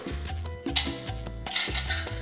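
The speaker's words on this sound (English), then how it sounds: "Probably gonna have to take out a little bit of ice just to leave enough space for the" A spoon stirs and clinks against ice in a glass while a mojito with rum is mixed, giving a series of close, bright clinks and scrapes in a steady rhythm with no talking.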